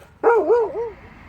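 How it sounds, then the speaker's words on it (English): A dog in a small tiny house lets out a single close, loud, drawn-out bark with a wavering, howl-like pitch lasting about a second. "The dog started barking."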